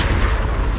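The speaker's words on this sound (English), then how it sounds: "Move in during the gaps between explosions." A deep booming explosion from the video game Zenless Zone Zero, a single dense low rumble sustained under a second, loud and close.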